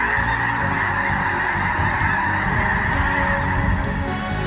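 A dense flock of migratory geese honking continuously, many overlapping calls forming a loud, steady outdoor chorus with no talk.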